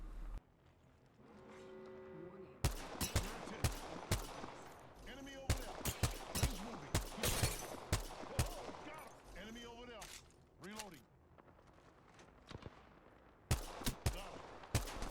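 Gunfire from the G7 Scout in the video game Apex Legends: a burst of sharp, loud shots in an irregular rhythm, with further cracks and impacts scattered across the clip and a faint voice underneath.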